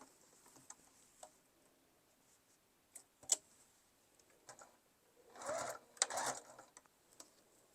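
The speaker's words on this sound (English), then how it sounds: "Now you're just going to fold those corners right at the seam, nest them in there, and then sew across." A sewing machine stitches across the folded corners of a fabric tote bag, quiet short bursts of running stitches with small ticks and pauses between them, louder near the end.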